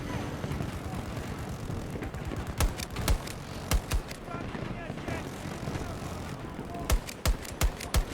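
Gunfire from a weapon in Battlefield 2042 cracks out as sharp, separate shots in two loose clusters over a rumbling battlefield background, fairly close and loud against the din.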